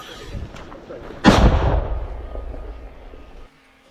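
A single loud mortar shot booms close by at the front line near Toretsk, Ukraine, its blast rolling and decaying over a couple of seconds before cutting off.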